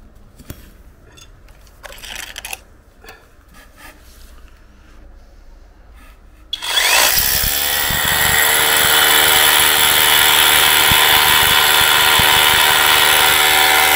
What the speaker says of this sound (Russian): аккумуляторный перфоратор, очень удобно сверлить